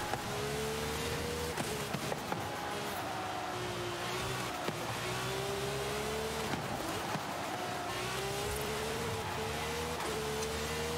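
A maxed-out tuned Lamborghini Gallardo convertible in Forza Horizon 5 drones at a steady high pitch, the engine note rising and dropping through gear changes over constant road noise, fairly quiet.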